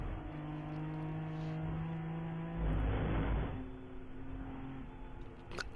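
A race car's engine rises as it accelerates out of a chicane at Watkins Glen during a seven-hour endurance race, steady and fairly distant with a brief louder surge midway.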